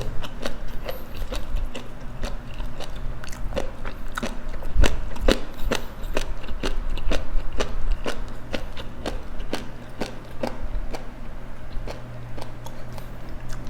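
Jellyfish being bitten and chewed with a spicy suki dipping sauce: a steady run of sharp crunchy clicks and wet bites, close and fairly loud, over a low constant hum, with no talking.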